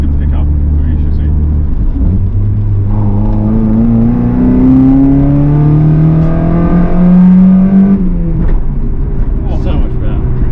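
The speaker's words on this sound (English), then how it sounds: "So you might hear some intake noise." A Mk1 Mazda MX-5 fastback pulls hard under acceleration, its intake and engine note climbing steadily in pitch for several seconds, then easing off as the revs drop, heard from inside the moving car.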